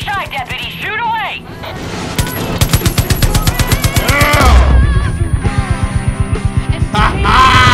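Rapid mounted cannon fire in the video game Far Cry 5, a long run of loud, evenly spaced booming shots hammering for several seconds, with short gaps, engine rumble, and shouting voices woven through the barrage.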